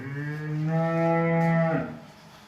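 A young heifer gives one long, loud moo close by, steady in pitch for over a second before it trails off.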